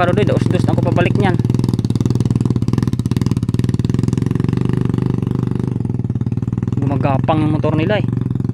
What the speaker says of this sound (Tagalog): Gumagapang yung motor nila eh.